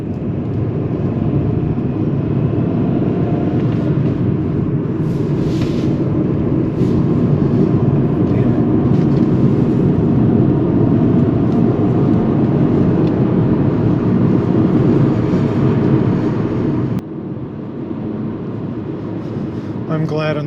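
A manual-clutch car drives along a road on a spring evening in Ireland, a steady loud interior rumble of engine and tyres that softens near the end, with a person talking over it.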